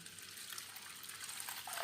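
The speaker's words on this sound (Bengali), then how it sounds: "আর দিয়ে দেব জল।" Faint, steady rush of water poured over washed red lentils for egg khichuri, a continuous soft hiss that swells slightly toward the end, with no voices.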